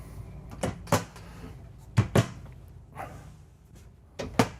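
Drawers and closet doors in the bedroom of a Newmar Ventana 4369 RV open and shut with several sharp wooden knocks and slides, close and clear, spaced in a loose rhythm.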